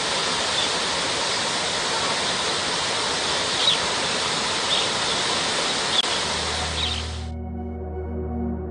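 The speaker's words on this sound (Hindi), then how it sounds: "बुलंदशहर की गगन नहर से 500 क्यूसेक पानी छोड़ा गया है" Water released from the Gagan canal pours steadily along the Yamuna river in a loud, continuous rush, cutting off abruptly near the end and leaving only faint residual noise.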